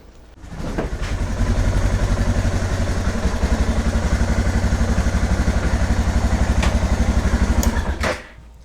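A Suzuki DR650 motorcycle engine starts and runs with a close, loud, rapid chugging rhythm for several seconds, then cuts off abruptly.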